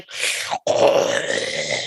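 A person's voice imitates zombie-like snoring: two drawn-out, raspy, groaning breaths, close and fairly loud, split by a brief silent gap.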